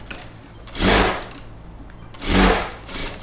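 A sewing machine backstitches knit fabric scraps, two short loud whirring runs about a second apart, separated by quiet pauses.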